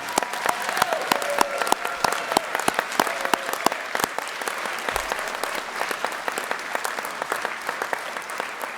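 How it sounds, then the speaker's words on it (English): An audience at a master's degree hooding ceremony applauding the graduates, steady sustained clapping from a large crowd throughout, fairly loud and with no talk over it. "let's give all of those graduates one round of applause"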